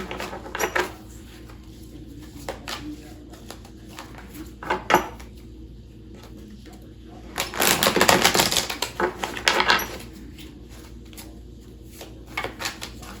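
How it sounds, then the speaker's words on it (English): A deck of oracle cards is shuffled by hand, giving bursts of riffling and flicking clatter, loudest in a dense flurry midway, with scattered lighter taps and slides around it, close and alone without talk. "Let me shuffle these good."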